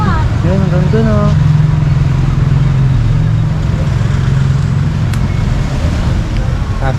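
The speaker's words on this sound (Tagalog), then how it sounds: "Traffic yan." Road traffic of cars and motorcycles in Sual, Pangasinan, Philippines: a dense, steady roar close by, with one engine's rising whine near the start and the noise never letting up.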